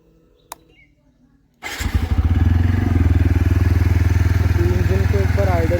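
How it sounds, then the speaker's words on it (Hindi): TVS Apache motorcycle engine starting for the first time after an oil change with Shell 10W-40 synthetic, a brief click and quiet moment, then a sudden catch into a loud, rapid, even idle chug up close. "This is the first start after the oil change."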